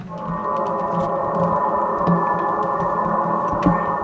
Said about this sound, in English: I used the reverb and put the mix all the way up